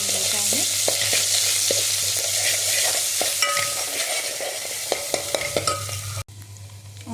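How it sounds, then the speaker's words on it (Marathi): Masala paste for amti frying in a pan, a close steady sizzle with scattered clicks of stirring, running for several seconds before cutting to quieter sizzling near the end. "छान तळून घ्यायचं आहे."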